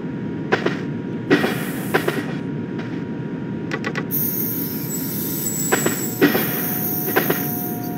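A Trenitalia regional train from Fiumicino Aeroporto to Orte, arriving at Fidene in a train simulator game, rumbles steadily with a series of sharp clicks and clacks from the wheels, and a bright high hiss joins partway through.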